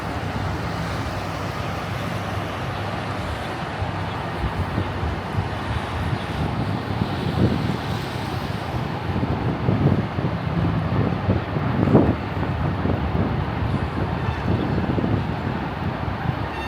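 Steady wind rushing past the microphone over a low rumble of street traffic near Times Square, New York, continuous and fairly loud with no voices, on a cold, windy day.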